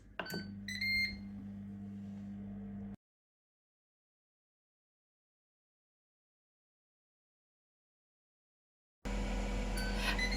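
A few sharp electronic beeps from a Ninja Foodi multicooker as air frying ends, over a steady appliance hum, then silence before the hum returns.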